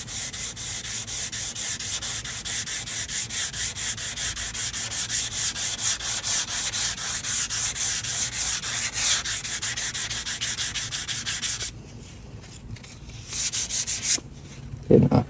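A wooden rocking chair being sanded by hand gives a close, rhythmic rasp of quick back-and-forth strokes that runs steadily, then breaks off into short pauses and a few final strokes, with no talking.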